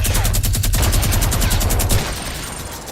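Gunfire crackles in a Fortnite match as rapid, loud shotgun blasts fire in quick succession for about two seconds, then cut off and leave quieter game ambience.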